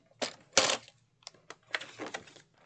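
Paper being cut on a paper trimmer, a few short scraping slides of the blade in quick bursts with brief pauses between them, close and fairly clear.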